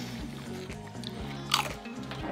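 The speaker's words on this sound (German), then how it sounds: "das ist voll eklig mit dem Schmatzen" Wet smacking and chewing while eating burgers, with rhythmic mouth sounds up close and a louder bite or crunch near the middle.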